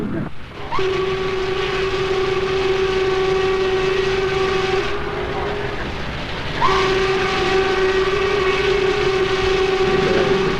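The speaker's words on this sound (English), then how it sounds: "Just to hear the sound of that whistle." A Norfolk Southern steam locomotive whistle blows two long, loud, sustained blasts separated by a short gap, over a steady mechanical rumble.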